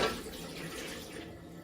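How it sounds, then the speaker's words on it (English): Water from boiled potatoes poured from a pot into a sink strainer, a steady close splashing rush that starts strong and continues evenly, with no talking. "I'm gonna dump my potatoes into the strainer."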